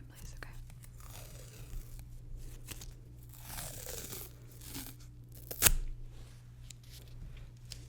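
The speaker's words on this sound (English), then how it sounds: "use a little bit of medical tape to hold that in place" Medical tape is pulled and torn in a quiet room, with soft peeling and crinkling and one sharp tear near the end, all close and gentle under a faint low hum.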